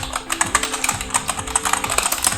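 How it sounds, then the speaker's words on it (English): Typing on an Ant Esports KM580 keyboard, a budget keyboard-and-mouse combo, with a quick, steady run of close, crisp key clicks and no talking. "the keyboard by itself, let me just give you a slight sound test."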